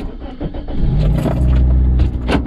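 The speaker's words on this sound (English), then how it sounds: "Okay, my car is started." A car engine cranks and catches at about one second, then settles into a steady low idle with a faint jingle of keys, close and fairly loud.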